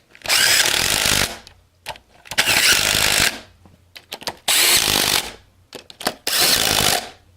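Bolts on a TH375/TH3L80/TH400 transmission are torqued down with a power tool: four loud whirring bursts of a second or so each, separated by short pauses with faint clicks and clanks.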